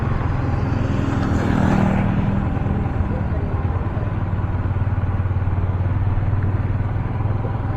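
A motorcycle rides over rough, uneven ground, its engine rumbling steadily close by with rattling and clatter throughout, the loudest surge near the start.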